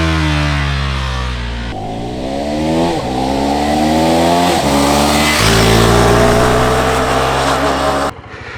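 KTM 390 Adventure single-cylinder motorcycle engine on a road ride, revving and shifting up through gears in a steady close rising-and-falling drone with wind noise, no talk.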